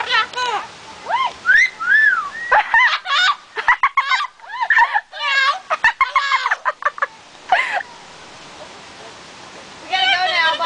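A pet parrot chatters and whistles in a run of bright, warbling calls and mimicked speech-like phrases, close and loud, with short pauses between bursts.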